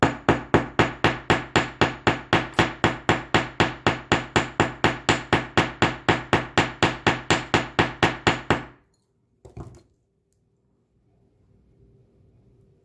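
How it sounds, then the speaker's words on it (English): Hammer striking a wire earring loop, a fast, steady run of about thirty sharp metallic taps close by, stopping abruptly, followed by a single faint knock and quiet. "We want to hammer that loop the same way."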